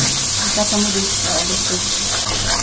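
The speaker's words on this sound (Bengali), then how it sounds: "তো এখন আমরা মশলাটা ভালোভাবে কষিয়ে নিব" Spices with red chili powder frying in a pan for a hilsa fish and eggplant curry, a loud, steady, close sizzle filling the whole stretch, with a voice speaking faintly underneath.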